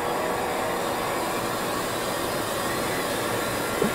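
A minicomputer's hard disk drive spins up its platters: a steady, whooshing whine builds and holds, a continuous airy drone like a distant jet with no voices.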